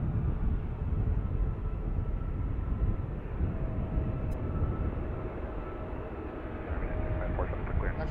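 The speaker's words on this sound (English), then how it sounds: "Actually sounds like a plane taking off." Loud jet airliner roar passing low overhead near Reagan National Airport at Gravelly Point, a broad, steady rumble sustained throughout with a faint tonal whine, no voices over it.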